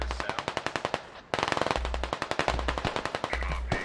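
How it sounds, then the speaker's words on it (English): Rapid machine gun fire in the game Squad, dense bursts of evenly spaced shots rattling almost without pause, with a brief break before a louder burst resumes. "We're taking fire towards us south."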